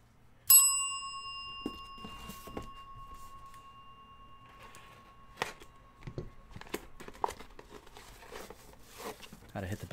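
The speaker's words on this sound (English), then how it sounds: "Got to hit the bell for that one." A bell rung once during a multi-sport trading card box break, a bright sustained ding that rings out over several seconds amid card handling, shuffling and crinkling, with people talking.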